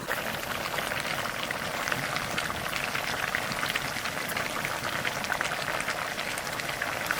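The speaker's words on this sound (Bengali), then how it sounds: "পেঁয়াজ আদা রসুন সব কিছুর সাথে মাংসটা একটু কষিয়ে নিলাম" Chicken pieces frying with onion, ginger and garlic in a home kitchen pan, a steady dense sizzle and bubbling that runs unbroken and fairly close throughout.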